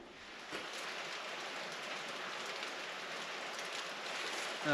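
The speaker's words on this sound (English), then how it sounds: "Now it's raining again." Steady rain pours down in a dense, continuous hiss of drops, fairly close and unbroken for the whole stretch, with no voices.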